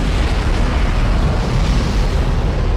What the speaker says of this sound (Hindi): भाई वहाँ पे धमाका हो गया